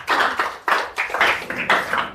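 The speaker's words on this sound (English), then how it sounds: "Clap your hands together for Jesus Christ" A church congregation claps together in a quick, steady rhythm, a dense and fairly loud patter of many hands.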